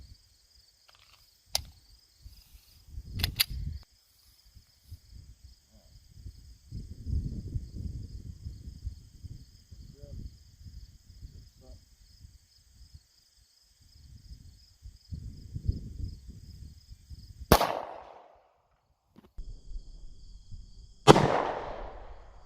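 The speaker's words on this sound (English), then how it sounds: "this is a 115 grain full metal jacket, and we're going to be shooting it out of a Taurus G2C" Two sharp, loud cracks from a Taurus G2C pistol firing 9mm 115-grain full metal jacket rounds at a Kevlar target cut through a quiet stretch of faint rustling and handling noise, spaced a few seconds apart near the end.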